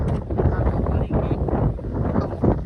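Wind buffets the microphone in a steady, rumbling roar, with a muffled voice mixed in, outdoors at the Galdhara temple site in Gujarat.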